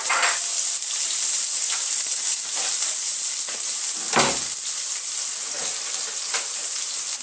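Onions and masala sizzling in a hot pan, a bright continuous crackling hiss with occasional louder spatters and stirring scrapes, no voices.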